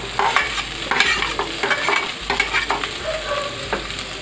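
Onion, green chilli and garlic sauté in a pan for a liver curry, sizzling steadily while a spoon stirs with quick, close scraping strokes, loud and with no one speaking.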